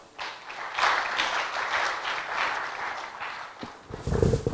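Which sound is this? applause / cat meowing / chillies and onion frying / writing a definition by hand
applause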